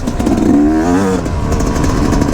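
A KTM 350 XC-F four-stroke dirt bike engine revs loud and close, its pitch rising and falling through a throttle blip over a steady rumble while riding.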